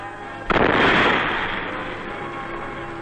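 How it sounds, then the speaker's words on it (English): A buried 70-pound charge of plastic explosive detonates in the ground to blow a camouflage crater, one sudden loud blast followed by a long rumbling roar that slowly fades. "The explosion produces a 10 feet deep crater 25 feet in diameter."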